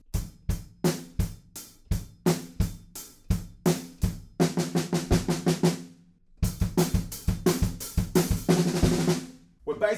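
Drum fill on a kit from a punk rock song: steady spaced kick and snare hits give way to fast, dense rolls with crashing cymbals, played loud and close with no talking.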